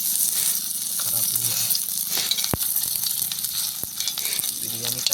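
Chicken 65 frying on a village-style wood-fired stove, a dense continuous crackling sizzle with a few sharp clicks and faint background murmur.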